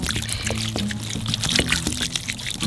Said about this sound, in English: so we put some water in.